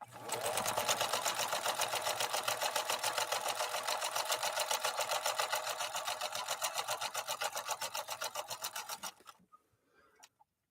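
A 1957 Phoenix 283F sewing machine, German-made by Adler, sewing a scallop stitch through four layers of heavy denim: a loud, fast, evenly pulsing mechanical chatter for about nine seconds, then stopping abruptly into near silence.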